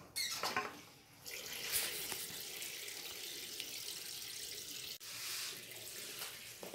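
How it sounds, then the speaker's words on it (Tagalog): Tap water running into a container for rinsing laundry by hand without a basin, a steady close splashing rush with shifting intensity and a brief interruption partway through. "Lagyan natin ng tubig."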